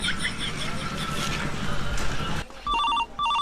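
A phone rings with an electronic melody in a Gujarati comedy scene. Noisy background with talk comes first, and then the repeated ringtone pattern sounds clearly near the end.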